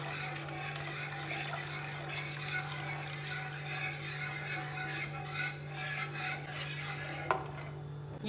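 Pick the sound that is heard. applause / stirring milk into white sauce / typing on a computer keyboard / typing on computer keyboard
stirring milk into white sauce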